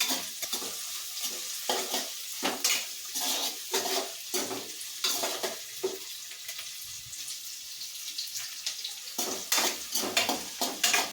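Sliced onions fry in a pan for egg usli, with a steady sizzle broken by repeated rhythmic scrapes and clinks of a spoon stirring against the metal, close and fairly loud, no talking.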